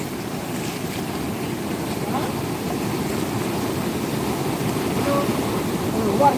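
Floodwater of the Sindfana river rushes beneath a bridge in a steady, loud broadband roar that swells slightly toward the end, with wind buffeting the microphone.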